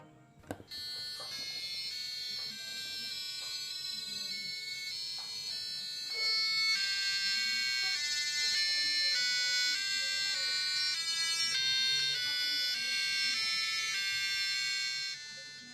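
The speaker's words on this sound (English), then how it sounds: "we have one buzzer playing the rhythm, one doing the solo, and the other for bass" Three electronic buzzers beep out a bright, tinny Happy Birthday melody together, one playing rhythm, one the solo and one bass, steady and clear with no voices.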